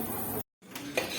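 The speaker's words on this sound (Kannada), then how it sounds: "ಈಗ ಈ ಕುದಿತಾ ಇರೋಂತಹ ಒಗ್ಗರಣೆಗೆ ಈ ಕಡಲೆ ಹಿಟ್ಟನ್ನ ಸ್ವಲ್ಪ ಸ್ವಲ್ಪನೇ ಹಾಕಿ ತಿರುಗಿಸ್ಕೊಳ್ಳೋಣ" Chickpea flour being stirred into a boiling spiced tempering for a poori side dish: steady scraping and bubbling in a pan, broken by a brief silent gap, with a light utensil clink near the end.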